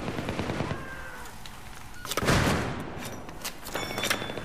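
Suppressed AUG A3 rifle fire in the video game Battlefield 3, rapid bursts of shots crackling close by with a louder boom midway, set against background game noise.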